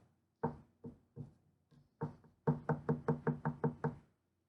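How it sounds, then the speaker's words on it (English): Knuckles rap on a door: a few separate knocks, then a quick run of about eight rhythmic, close, hollow knocks, with nothing else heard. "She went to the door, up the path to the door, and knocked on the door."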